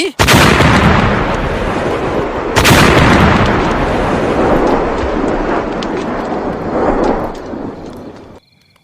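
A booming explosion effect in a Thai audio drama erupts loudly with a second blast moments later, followed by a long rumbling, crackling decay that fades out.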